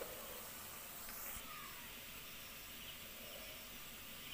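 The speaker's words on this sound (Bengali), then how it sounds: "আমি এগুলোকে ভালোভাবে ভেজে নিচ্ছি।" Green banana (kachkola) kofta frying in oil in a pan, a steady, soft, continuous hiss and sizzle that holds evenly throughout without talking.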